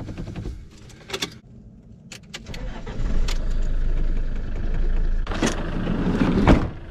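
A car engine in a mountain setting cranks and catches, then settles into a steady idle, preceded by a few sharp clicks and ending with a louder burst of handling noise.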